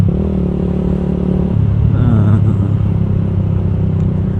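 Motorcycle engine accelerating while riding in traffic, a loud close continuous rumble whose pitch drops and then steadies as the bike speeds along, with wind noise and no talking.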